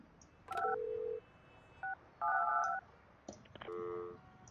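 Several electronic keypad dialing tones in Project Highrise, short beeps and longer held tones in uneven bursts, clean and fairly quiet.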